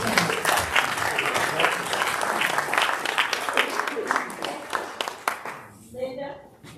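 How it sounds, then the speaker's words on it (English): Club members at a Rotary meeting applaud themselves, a loud, close burst of many hands clapping with scattered sharp claps that thins and fades toward the end as a voice begins speaking. "give yourself a round of applause and then please stand"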